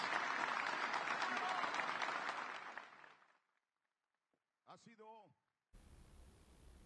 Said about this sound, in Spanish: le tributen un gran aplauso al próximo presidente de la República Dominicana, doctor Leonel Fernández